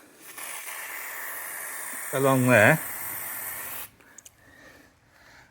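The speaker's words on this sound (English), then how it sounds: "The best stuff to use is just plain white grease in a spray can with a nozzle" A steady aerosol spray of white grease hisses for several seconds onto the sliding door of a Nissan e-NV200 under a voice, with a brief burst of talk in the middle, then cuts off.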